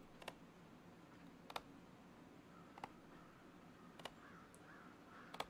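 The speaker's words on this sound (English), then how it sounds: "crows there. Do you hear?" Crows cawing in the video game Legends of Aria, faint short calls repeating every second or so over quiet ambient background, with some soft clicking, no talking.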